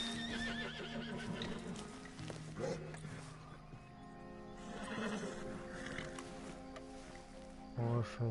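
Horse in Red Dead Online whinnying loudly, with clip-clop hooves and game ambience throughout and a brief squeal near the end.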